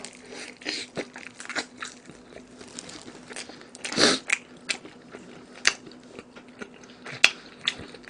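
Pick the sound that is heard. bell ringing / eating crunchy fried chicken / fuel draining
eating crunchy fried chicken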